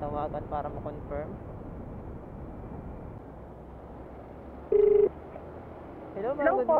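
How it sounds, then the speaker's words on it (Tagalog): A single short telephone keypad tone sounds briefly, then a longer steady dial-type tone follows from a motorcycle taxi driver's phone, faint and steady beneath low engine-like rumble and outdoor talk. "Try nating tawagan para ma-confirm."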